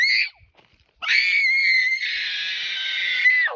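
A girl in a village shouts loudly to drive cows, a short high cry followed by a long sustained yell lasting over two seconds, close and clear with no other sound.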